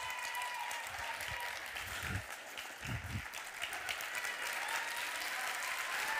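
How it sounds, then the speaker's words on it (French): An audience applauds in the hall at an eloquence contest final, a sustained wash of clapping with a few low thumps, moderately distant and without speech. "Il suffit pas d'applaudir"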